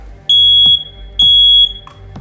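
A ceiling smoke alarm under test sounds two long piercing high beeps, each about a third of a second, with a short chirp and a click near the end, loud and close in a quiet home.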